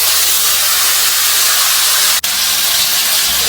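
Softened mutton pieces hit about two spoonfuls of hot oil in a kadai, producing a loud, continuous, close sizzle and steamy hiss that barely wavers throughout.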